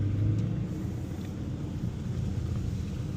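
Stage 2 Mercedes E63s AMG V8 in race mode, heard from inside the cabin as a steady low engine rumble that holds through the moment with no one talking.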